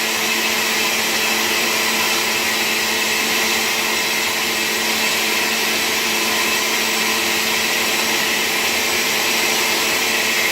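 A steady, loud motorized whir runs unbroken throughout as a blender spins a berry green smoothie at high speed, with no voices.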